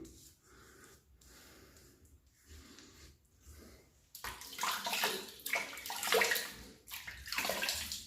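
Running water rinsing during a wet shave: a soft, steady trickle at first, then a louder splashing gush as hands and face are rinsed under the stream, close by.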